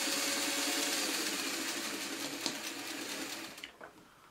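A sewing machine stitches a Y seam on a honeycomb quilt block with a close, steady mechanical whir that slows and stops near the end, leaving a few faint clicks and handling noises.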